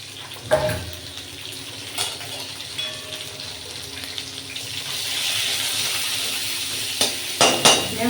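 Sizzling hiss of onion frying in a pan with cumin builds and holds steady, with a few sharp clinks and scrapes of utensils against metal.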